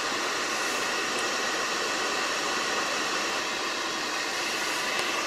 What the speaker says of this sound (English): That's the aircon on.